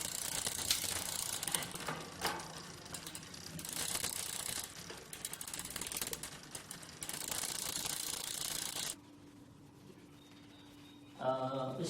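A bicycle chain and freewheel tick steadily while the chain is lubed, a close mechanical ratcheting that runs for most of the stretch and then drops to a quieter pause before a few short ticks return.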